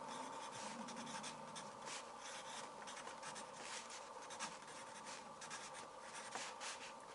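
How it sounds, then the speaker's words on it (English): A pen or pencil scratches musical notes onto paper, producing a close, quiet, continuous scratching with small strokes and pauses and no talking. "And I'm going to write it now."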